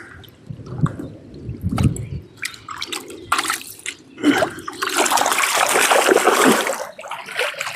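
Close splashing and gurgling water as a fish is released back into a lake while zig-rig fishing, starting with light sloshing and building into a louder churning splash.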